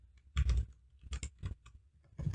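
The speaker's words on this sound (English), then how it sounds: "Can I really type on this keyboard?" Computer keyboard keys typed in short irregular bursts of clatter, close and fairly loud, with brief pauses between runs of keystrokes.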